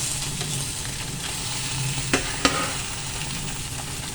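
Fish sizzles in a small amount of cooking oil in a pan, a steady crackling hiss with a low bubbling undertone, broken by a couple of sharp pops or utensil taps near the middle, and no talking.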